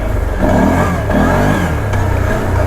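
An Arctic Cat 1000 TRV's V-twin engine revs up and down close by, a throaty mid-pitched roar rising in two surges over about three seconds.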